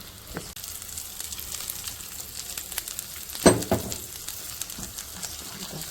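A ground tomato, onion and fenugreek mixture sizzles in a hot pan for methi egg curry, a continuous frying hiss with scattered pops and one louder burst midway, no talking.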